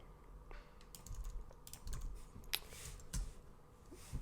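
Quiet computer keyboard typing of code, with irregular clusters of key taps and clicks, close and alone.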